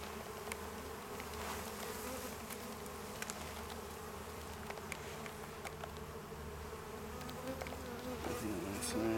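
Dense, steady buzzing of many honeybees fills an open hive during an inspection, a continuous close drone with a brief stronger swell near the end.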